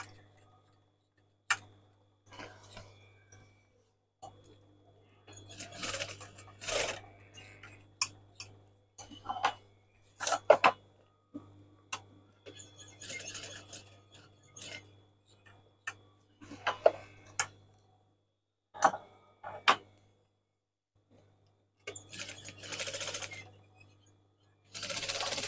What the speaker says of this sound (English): I'm just stitching just inside where it's frayed